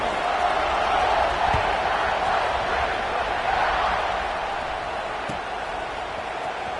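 A football stadium crowd roars at kickoff, a broad, steady wash of cheering at a distance that holds loud for the whole stretch.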